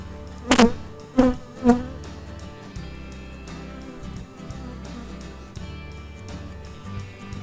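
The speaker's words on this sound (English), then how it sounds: "Got a lot of bees on that side wall of the hive body." Honey bees buzzing and droning steadily close by at an open hive, with a few sharp knocks near the start and faint bumps later.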